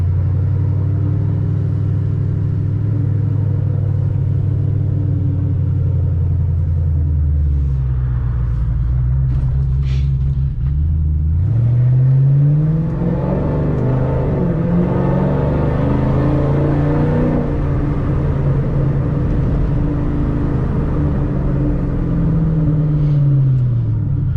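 A cammed 3V Ford Mustang GT V8 rumbles at idle, then revs and pulls away with a rising, throaty roar that stays loud and close throughout.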